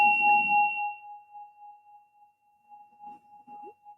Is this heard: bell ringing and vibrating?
yes